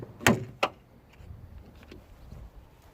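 The passenger door of a 2012 Renault Megane 1.6 swings open while its worn door check straps give two sharp, close clicks in quick succession, followed by quiet faint rustling.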